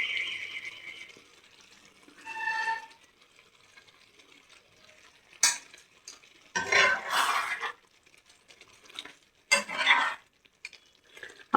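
Paneer curry with green chillies, black pepper and coriander leaves being stirred in a pan, with scattered scraping and clinking of a spoon against the pan in a few brief bursts separated by quiet pauses.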